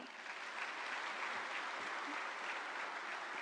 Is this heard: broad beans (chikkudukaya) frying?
no